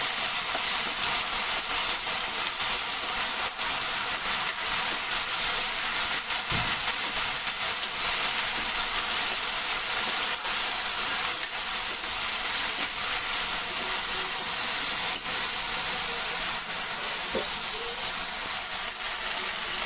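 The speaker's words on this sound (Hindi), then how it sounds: "प्याज टमाटर फ्राई हो गया।" Chopped onions and tomatoes fry in a pan, a loud, steady, dense sizzle that hisses without a break for the whole stretch, with no talking.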